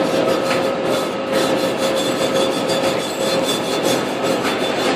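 Flux residue is scrubbed off a fresh arc weld, a loud continuous rasping scrape with a steady rhythm, close up and alone.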